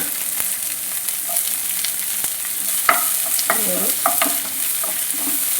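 Chopped onions fried in hot oil in a pan for a Kerala prawn biryani, with a steady sizzle and several scraping stirs of a spoon against the pan. No voices are heard.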